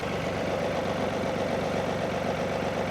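A John Deere compact tractor engine idles with an even, steady chug heard alone at moderate distance, with no voices.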